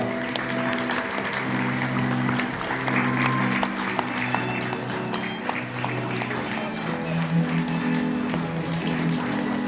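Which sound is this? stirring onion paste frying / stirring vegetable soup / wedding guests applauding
wedding guests applauding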